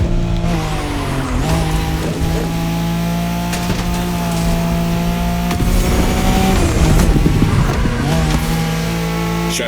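A car in The Crew Motorfest racing game howls at high revs with tire squeal and skidding through turns, loud and close throughout, no talk.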